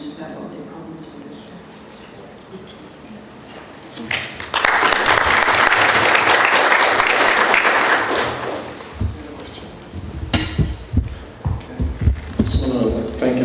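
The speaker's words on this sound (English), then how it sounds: "Can we just give a round of applause?" A conference audience in Melbourne gives a round of applause. Quiet room sound and some talk come first, then a loud, full burst of clapping lasts about four seconds before fading into scattered claps and speech.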